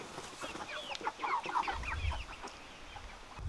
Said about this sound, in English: Got all the chickens here.